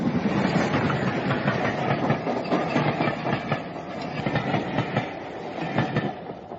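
A radio-drama sound effect of a train running on rails, a steady loud rumble with a rhythmic clickety-clack from the carriage wheels, continuous throughout with no voices.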